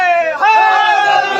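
Audience at a Shia majlis (religious gathering) in Malad chanting slogans together, a loud sustained crowd chant with a brief dip before surging again, voices layered and close.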